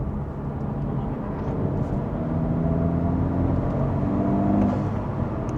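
An Acura Integra Type S (DE5) fitted with a Sprint filter pulls in 4th gear, a steady, droning engine note heard from inside the cabin that swells gently toward the end, with no talking.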